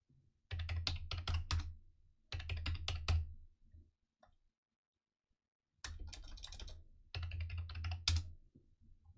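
Rapid typing on a computer keyboard while entering a Samba server password on a Raspberry Pi setup, in two bursts of close, crisp key clicks separated by a short pause.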